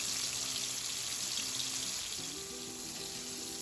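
Steady, bright hiss of shrimp deep-frying in hot oil, continuous and close, with faint background music underneath.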